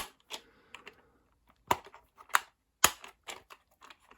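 A Playmobil Back to the Future DeLorean toy wheel is pushed and clipped into place, giving several sharp plastic clicks and snaps spread irregularly across a few seconds, close and fairly quiet with near silence between them.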